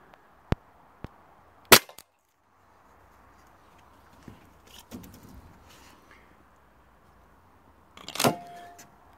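Stock Tokyo Marui gas airsoft gun fired on Nuprol 1.0 green gas during a chrono test: a handful of sharp, separate cracks spaced irregularly across the stretch, with quiet gaps and faint room noise between them.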